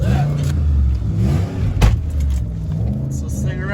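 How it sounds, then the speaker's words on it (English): A car engine with a 7.3-litre swap revs hard at close range, a loud surging roar that rises and falls, while people talk over it. "What's this thing rev out to?"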